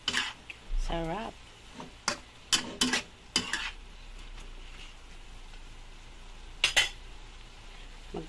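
Vegetables with cabbage and beans stirred in a pan, giving scattered metallic clinks and scrapes of a utensil over a faint sizzle, close and irregular, with brief voice sounds between strokes.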